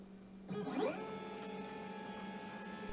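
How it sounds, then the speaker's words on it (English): A CNC router travelling to its home position in the far corner, a rising motor whine that settles into a steady mechanical hum, close and fairly quiet. "This process moves the machine to the far right corner, otherwise known as its home position."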